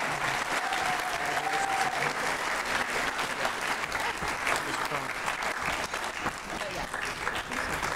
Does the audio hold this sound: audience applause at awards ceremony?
yes